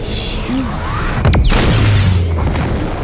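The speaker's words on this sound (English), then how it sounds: "Blew it up!" Explosion in the video game Saints Row 4, a loud booming blast with a sweeping whoosh, then a low rumbling tail under dense game noise.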